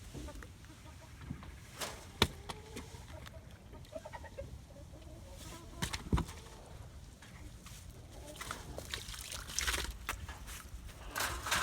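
Several chickens cluck softly nearby amid scattered pecking and rustling, fairly quiet and intermittent, without talk.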